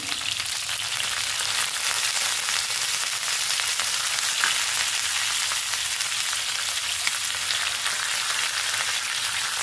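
Green chillies and curry leaves fry in hot oil for a beet fry, a steady close hiss of sizzling that stays even throughout with no talk.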